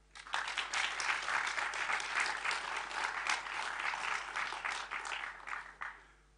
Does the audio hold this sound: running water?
no